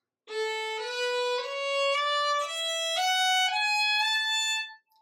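A bowed string instrument plays a rising run of notes joined smoothly in groups, each group flowing without a break, clear and close with no voices.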